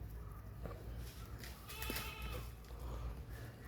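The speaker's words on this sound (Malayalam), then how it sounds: "നല്ല വലിപ്പമുള്ള, നല്ല ബോഡി വെയ്റ്റും വലിപ്പമൊക്കെ ഉള്ള വലിയ ആട്" A large Beetal cross goat on a farm in Malappuram district gives a brief, faint bleat over a quiet background hum.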